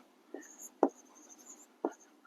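Chalk or marker writing on a board, a few short scratchy strokes with pauses between, faint and close against a quiet room, no voices.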